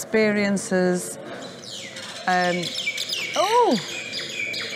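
Birds chirping and calling around a temple along the Mekong, several bright tweets and a rising-falling whistled call, clear and fairly close, with someone speaking over parts of it.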